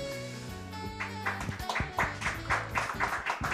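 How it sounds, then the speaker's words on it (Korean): Clapping at a diabetes association policy pledge handover ceremony for a presidential candidate, with sharp, evenly spaced claps over a sustained musical tone in the background. "큰 박수로 우리 여섯 분을 응원해 주시길 바라겠습니다"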